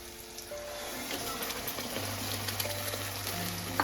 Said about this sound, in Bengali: দিয়ে আমি এটাকে এবার ভালো করে নেড়ে নেড়ে ভেজে নেব।